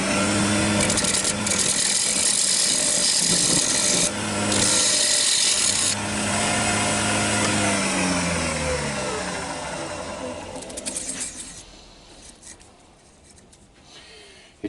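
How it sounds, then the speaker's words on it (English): Square-tip carbide cutter scraping a lid recess into a wooden cooking pot on a lathe, a steady rough whirring rub that fades gradually toward the end, with a voice talking over it. "I'll just use a square tip carbide cutter"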